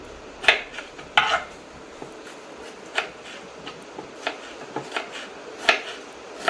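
A knife cutting tomatoes on a board in a home kitchen, giving irregular sharp taps and clicks spaced across the stretch with a few louder knocks in a quiet room.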